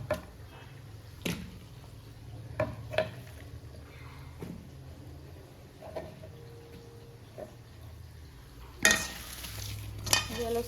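Onion being stirred into bhaji batter in a home kitchen gives soft, wet squishing and occasional spoon clinks against the bowl, faint and intermittent with no talking.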